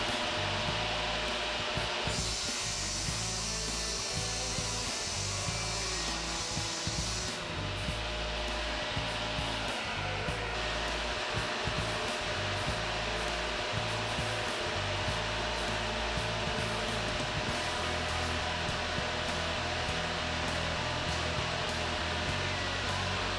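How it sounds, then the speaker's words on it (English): Table saw cutting half-inch wood pieces, a loud continuous whining roar that holds steady throughout, its tone shifting slightly as the blade goes through the material. "I'm going to cut most of the pieces in the half-inch material out on the table saw"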